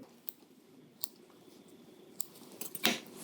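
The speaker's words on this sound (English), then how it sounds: "if you've got sharp dissection scissors, it is far easier to control and actually easier to cut. So I'd be cutting through." Sharp dissection scissors cut through a heart, several quiet, crisp metallic snips and clicks spaced irregularly, with a louder cluster of cuts near the end against a near-silent background.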